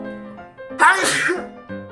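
A single sharp sneeze bursts out close to the microphone in a home kitchen before a cooking session, loud and sudden, with quiet room tone on either side.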